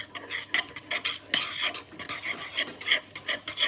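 A spoon stirs a baked oats mix with sweetener and a squirt of skinny syrup in a bowl, giving repeated close scraping and rasping strokes in a steady rhythm with no talking.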